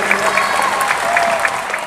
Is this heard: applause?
yes